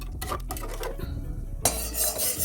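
Spices tipped into mutton cooking in a pot for a Bengali-style curry: metal clinks and scraping of a spoon against the pot, then a brighter hissing surge as the spices hit the hot pan.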